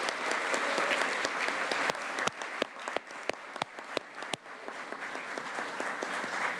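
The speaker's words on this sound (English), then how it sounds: "One final round of applause for all of our incredible volunteers" Warm applause from an audience at a volunteer recognition ceremony, a dense, steady patter of many hands with a few louder individual claps standing out, no talking.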